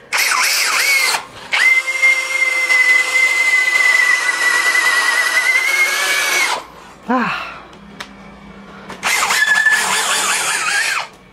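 A DongCheng DCJZ2060i hammer drill runs in long bursts with a loud, close, high whine, stopping briefly between runs and slowing with a falling pitch during one pause.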